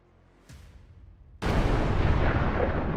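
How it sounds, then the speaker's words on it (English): Precision bombs strike an artillery shell storage depot, setting off a loud, sustained roaring explosion that comes in after a smaller rumbling blast and keeps going without any talk. "Bombs hit with pinpoint accuracy, causing an enormous explosion of artillery shells."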